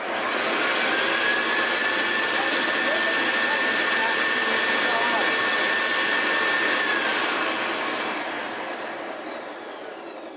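A restored Hoover Senior U4058 upright vacuum cleaner, hood off, runs with a loud, steady motor whine and rushing air close by, then winds down toward the end.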